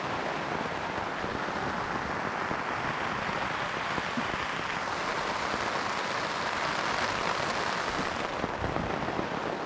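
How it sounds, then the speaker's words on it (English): Steady, heavy rain pours continuously at a canoe campsite with a dense hiss throughout, no voices, loud and close. "Good thing about all this rain is it's drowned out the snore"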